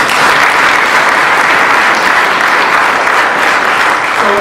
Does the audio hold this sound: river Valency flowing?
no